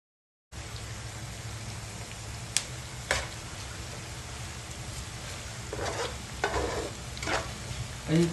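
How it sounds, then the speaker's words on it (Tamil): Onions frying in hot oil for a chicken biryani, with a steady sizzle throughout and several scraping stirs of a utensil in the pan standing out in the second half. "இப்போ நம்ம வந்து வெங்காயத்தை போட்டு நல்லா ஃப்ரை பண்ணுவோம் கோல்டன் கலரில்."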